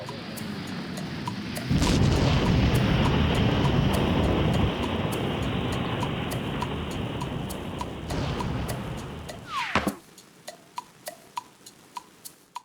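Fireworks and sparks shooting in the Tomodachi Life video game: a sustained loud crackling, hissing roar of sparks cuts off around ten seconds, followed by a series of sharp, evenly spaced popping bursts.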